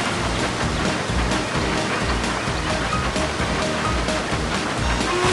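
Loud rushing water pours down a wild water slide at Water Slide Mountain in a Thomas & Friends train game, a dense, continuous roar with a low rhythmic pulse underneath.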